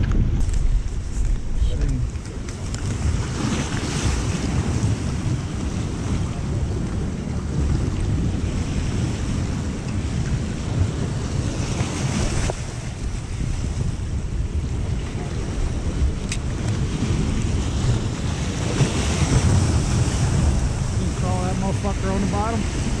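Ocean waves wash against rocks on a windy shore while striper fishing, with steady rushing surf and heavy wind buffeting the microphone throughout, and people talking intermittently.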